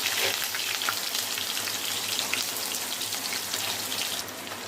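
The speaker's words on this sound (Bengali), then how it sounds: "পেঁয়াজগুলো একটু ভাজা ভাজা হবে।" Onions frying in a pan with spices for mutton kosha, a steady dense sizzle with faint crackles, close and continuous throughout, no voices.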